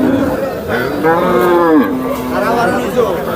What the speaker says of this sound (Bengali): এখানে দেখতে পাচ্ছেন একদম হাট ভরা গরু